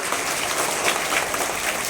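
An audience claps for Payal, a student honored for her CBSE exam result: steady, dense applause from many hands, loud and continuous with no voices over it.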